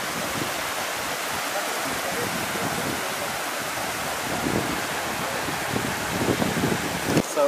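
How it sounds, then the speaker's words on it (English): A small waterfall in Chapada Diamantina, Brazil, pours steadily into a little swimming pool, giving a continuous, fairly close hiss and splash that stays even throughout. "It's actually a waterfall. Water's coming up from up there, and it continues down there."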